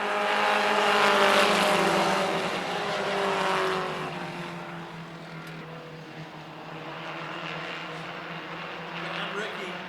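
Race cars roar past on track with loud engine drone and shifting pitch that fades and returns, while an announcer talks over the racing.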